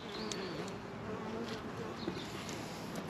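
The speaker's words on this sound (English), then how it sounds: "Bees are flying." Honeybees buzz around the hives in the open air, a soft, steady drone with a few individual bees whizzing closer past the microphone.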